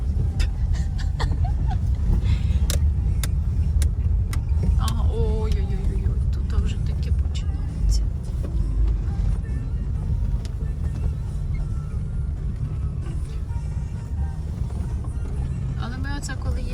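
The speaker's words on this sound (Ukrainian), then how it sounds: "Тепер прямо їдь." A car drives slowly along a rough forest road, its engine and tyres making a steady low rumble with occasional knocks and bumps, while people talk and laugh inside the vehicle.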